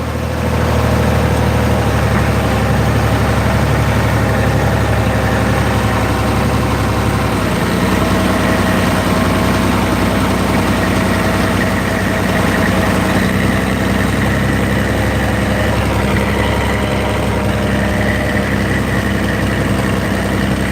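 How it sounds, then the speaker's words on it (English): A grain dryer runs during a soybean harvest, a loud, steady machine drone with a deep rumbling hum and mechanical whir, unchanging throughout. "There's my grain dryer."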